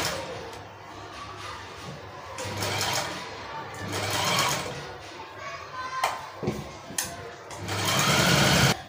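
A sewing machine stitches a kaftan dress seam in steady runs that start and stop, close and fairly loud, with brief pauses between bursts.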